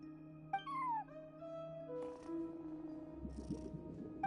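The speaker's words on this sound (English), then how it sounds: "No one except for a cat watching over the front desk." A cat meows at a front desk in Genshin Impact, a short rising-falling call near the start followed by softer game ambience and a low rumble toward the end.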